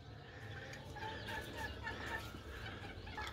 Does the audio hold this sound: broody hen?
yes